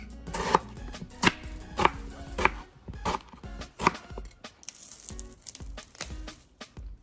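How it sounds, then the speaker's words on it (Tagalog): A knife chops fresh parsley into small pieces on a board for seafood pasta, giving about a dozen crisp, close, uneven strikes with short pauses between them. "Chop it in small pieces"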